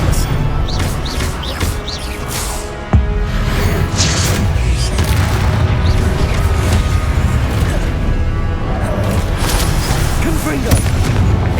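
Repeated spell explosions go off amid busy video game combat in Hogwarts Legacy, a run of sharp booms and crashes over a constant layered score and effects.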